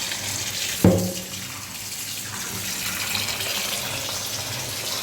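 Tap water runs over large chicken pieces being washed, starting with a sharp splash and then settling into a steady, close gush from the faucet.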